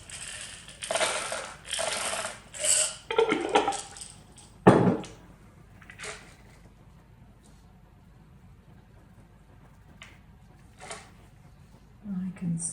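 Sweets tumble into a folded paper treat box in a few bursts of crinkly rustling and clattering, followed by a long quiet stretch and a brief rustle at the end.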